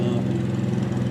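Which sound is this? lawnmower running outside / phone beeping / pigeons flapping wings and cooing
lawnmower running outside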